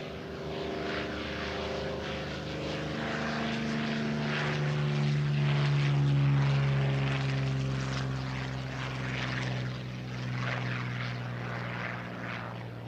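A Curtiss P-40 propeller warplane flies past at the 2025 National Championship Air Races in Roswell, New Mexico, its loud droning engine tone swelling and bending in pitch as it passes, heard alone without voices.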